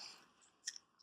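Someone chews a crunchy snack close up in a quiet room, with a few short, crisp crunches and bites spaced apart.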